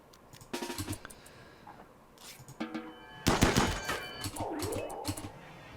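Rapid bursts of gunfire from RimWorld colonists in a video game, several loud volleys separated by short pauses, crackling fast and close, with no talk.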